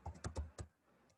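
Keys on a computer keyboard are tapped about five times in a quick, light burst, then it goes quiet. The clicks are faint and close, with no talking.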